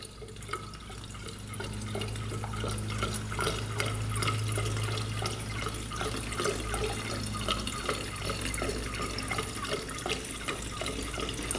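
Premix two-stroke fuel poured from a container into a plastic dirt bike tank, a steady close trickle and gurgle of liquid filling the tank, continuous with no talk.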